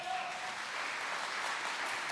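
Church congregation applauding steadily, a dense, even wash of many hands clapping at moderate distance throughout, with no speech over it.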